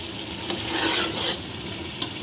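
Chickpeas (chole) cooking with spices and kewra over a high flame give a steady, close sizzle, with stirring swells and two sharp clicks of the spoon against the pan.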